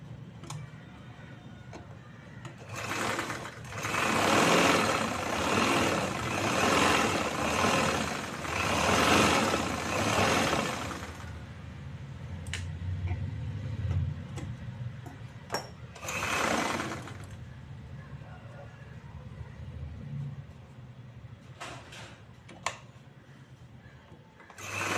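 A sewing machine stitches the folded hem of a choli top in several bursts of steady, rapid needle chatter, loudest early on, with quieter pauses and light handling noises between runs.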